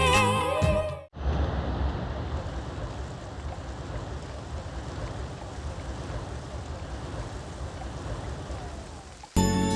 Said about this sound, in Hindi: इतनी अच्छी बारिश हो रही है